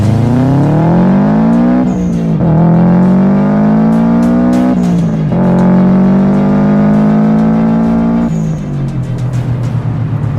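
A 1996 Subaru WRX STi engine revs hard toward 8,000 RPM, loud and close, climbing in pitch through three long pulls with sharp drops between shifts, ending on a lower rumbling idle.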